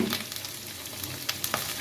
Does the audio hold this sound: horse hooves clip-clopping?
no